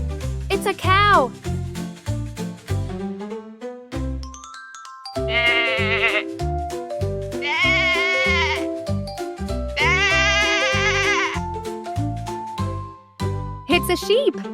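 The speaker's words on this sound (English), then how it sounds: "It's a sheep." A sheep bleats three times in loud, wavering calls over a cheerful children's tune with a steady beat that keeps playing throughout.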